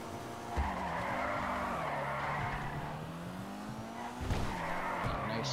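Steady tire squeal from a Maibatsu Penumbra FF sliding through a drift in GTA Online, with a droning engine under it and short knocks near the start and end.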